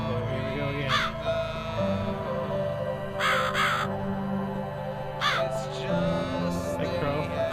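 A crow caws several times in clear, harsh bursts inside the horror game The Cat Lady, spaced calls over a droning ambient music bed, with a short voice between them.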